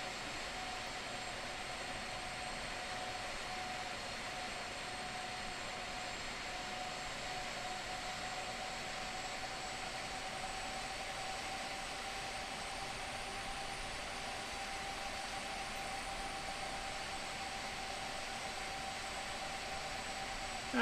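Cargo airliner jet engines in a flight simulator game, taxiing into a parking spot at Las Vegas: a steady, even whine and broadband roar with a high tonal hum, continuous and unchanging throughout, no voices.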